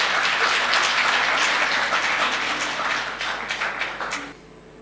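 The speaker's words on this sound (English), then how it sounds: "please come forward with a round of applause" A graduation ceremony audience gives a round of applause, dense and steady at first, then thinning into scattered claps before fading out.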